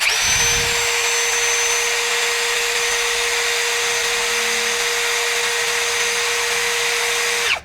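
An APR AP34+ cordless impact drill runs steadily at its lowest speed setting, a loud, continuous high-pitched motor whine that holds for about seven seconds before cutting off, with no voices.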